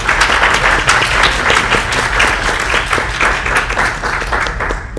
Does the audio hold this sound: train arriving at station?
no